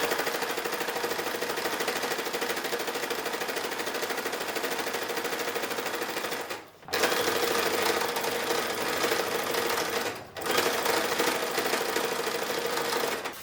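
A sewing machine top-stitches along the edge of an 1860s-style infant pillow, running in a fast, continuous close-up hum with two short pauses.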